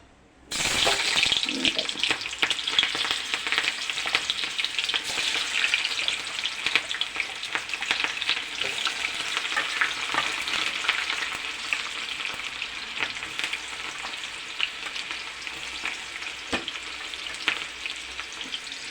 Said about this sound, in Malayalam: അപ്പോൾ ഇതെല്ലാം നമുക്കിതിലേക്ക് ഇട്ട്, എണ്ണ നല്ല തിളച്ച് കിടക്കുകയാണ് കേട്ടോ.